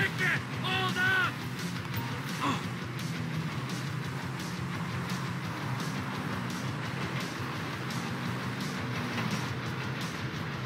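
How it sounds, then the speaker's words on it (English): Train in Grand Theft Auto V rumbling steadily for about eleven seconds, a continuous broadband roar with a brief tonal squeal early on, accompanied by faint game voices. "Stop that train!"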